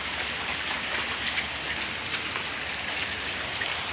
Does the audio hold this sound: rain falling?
yes